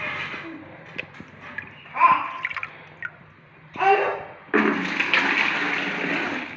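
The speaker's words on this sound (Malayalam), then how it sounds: "ഈ ബക്കറ്റിലോട്ട് ഈ വെള്ളം പകുതി മാറ്റി" Dirty water from a guppy aquarium drains into a bucket in uneven gushing bursts that build into a loud, steady splashing pour near the end.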